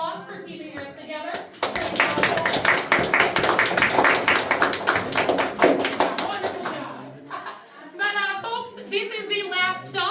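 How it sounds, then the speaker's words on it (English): A tour group at Ruby Falls and Rock City on Lookout Mountain gives a round of applause, several seconds of close, lively hand clapping, with talking voices before and after. "our caboose deserves a round of applause for keeping us together"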